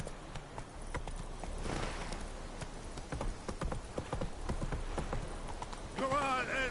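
Hooves of Roach, the horse in The Witcher 3, clip-clop in a quick steady rhythm, close and clear, with a brief whinny near the end and a voice speaking over it.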